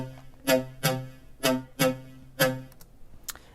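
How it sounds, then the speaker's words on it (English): Main synth lead from a track's drop, built in Serum, firing short bright stabbed chords in a choppy rhythm, about six loud hits with gaps between, alone with no voices. "So in this drop, I have my main synth, which sounds like this."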